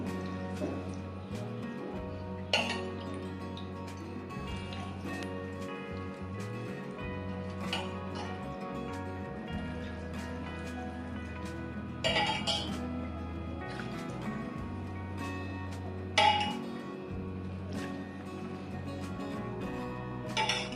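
Hot oil spooned slowly over mustard dal, salt and spices for raw mango pickle, giving soft drips and light clinks of a spoon against the vessel over a steady low background hum, with occasional sharper taps.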